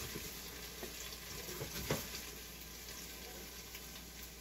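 Chicken pieces brown in an Instant Pot with brown sugar and garlic, sticking to the bottom, giving a soft, steady frying hiss with one sharper scrape partway through, faint and close.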